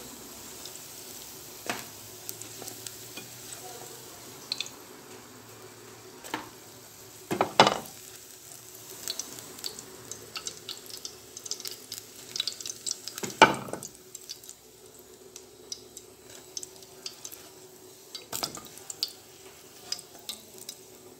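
An egg fries in a pan with a low, steady sizzle, marked by sharp clinks and scrapes of a utensil now and then, and no voices.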